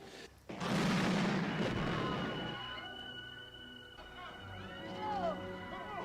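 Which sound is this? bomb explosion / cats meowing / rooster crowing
bomb explosion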